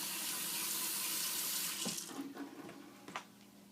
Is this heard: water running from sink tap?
yes